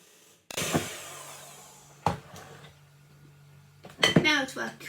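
A spatula knocks and scrapes a creamy, buttery biscuit mixture into the middle of a mixing bowl in the kitchen, with sharp taps and short scraping strokes, close and clear, beside a voice.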